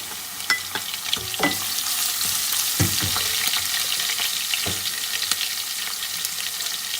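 Vegetables, garlic paste and whole spices fry in a pot for pulao, a steady moderate sizzle broken by scattered clicks and scrapes of a stirring spoon.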